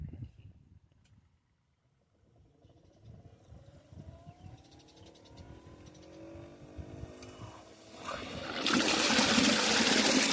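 A solar-powered DC submersible well pump, model 4LSC10.5/45-96, runs on a test before going down the borehole. Water rushes and splashes, starting quietly and building to a loud, steady gush by the end.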